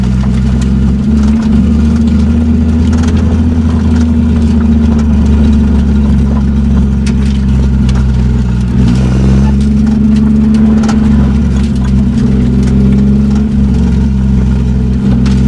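A 1987 Toyota Supra with a swapped naturally aspirated 2JZ-GE engine runs loud and steady, with a deep low rumble that swells and eases slightly as it revs, continuous for the whole stretch without talk.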